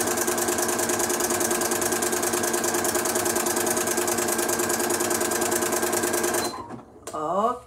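A Janome Flower Stitcher sewing machine stitches at its maximum stitch size, running loud, steady and fast with an even mechanical chatter that stops abruptly near the end, followed by brief handling sounds.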